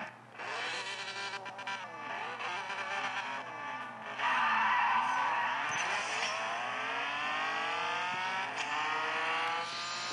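Racing car in a video game, engine droning and revving loudly and steadily throughout with shifting pitch as it accelerates and slides, a louder stretch midway, no talk.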